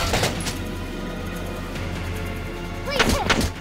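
Attack on a tank in Valkyria Chronicles, with heavy booming explosions and thuds over a low rumbling battlefield background, ending in a louder burst of impacts.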